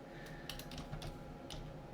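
Typing on a computer keyboard: a handful of quiet, close key clicks in short irregular bursts over a steady low background hum, with no speech.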